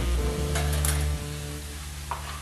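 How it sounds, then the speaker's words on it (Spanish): Garlic frying in a pan alongside prawns for a baked fresh corvina dish, a soft sizzle with a few clinks of utensils against the pan. "Mira, freímos los ajos"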